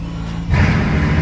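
A Hermès-edition Bugatti cold start: after a quiet moment the engine catches with a sudden loud, deep rumble that holds steady for the rest of the brief moment.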